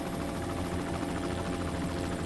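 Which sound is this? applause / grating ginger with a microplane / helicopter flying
helicopter flying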